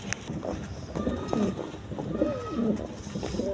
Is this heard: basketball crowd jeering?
no